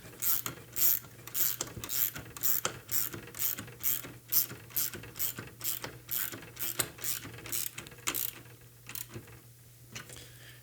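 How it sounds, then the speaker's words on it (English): A ratcheting wrench tightens bolts on a launcher with a fast, rhythmic run of close mechanical clicks. The clicks come in repeated bursts and trail off at the end. "I've got the ratcheting wrench, so that's helping out a little bit instead of going for the full ratchet."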